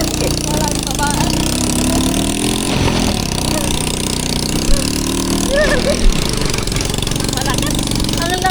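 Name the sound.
motorized tricycle engine pulling hard on a ride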